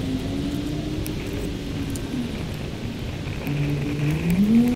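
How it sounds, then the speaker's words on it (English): Cars passing by on city streets, a steady broadband traffic rumble with a rising engine drone swelling near the end, close and continuous with no talk. "All I hear every day is the planes and the cars going by."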